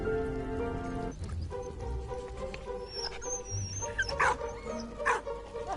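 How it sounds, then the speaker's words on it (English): A dog barking in the video game Valiant Hearts on a World War I battlefield, with a few short yips and barks over a game music bed and scattered sound effects, no voices. "The dog's going after the sausages?"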